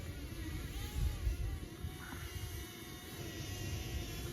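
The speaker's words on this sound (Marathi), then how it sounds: "काय आता रोहित दावरतो ड्रोन" A drone flies outdoors, giving a steady, fairly faint whirring buzz with a low rumble that holds through the whole stretch and swells briefly early on. No one speaks.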